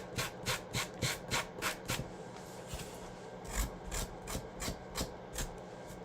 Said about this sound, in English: Take your little thumb sander, like I told you, once it's dry, you just take it and go around the edges.